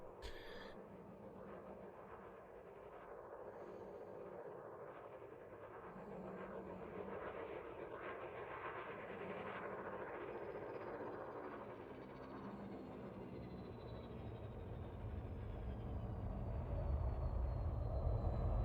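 A shuttle arriving and docking in Elite Dangerous Odyssey: a quiet, low engine drone that gradually swells into a heavier rumble toward the end, with no one talking.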